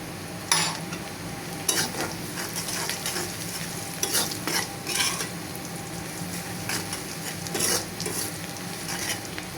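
Dried fish curry frying in a pan, a steady close sizzle broken by repeated scraping strokes of a spatula stirring, with occasional sharper clinks against the pot.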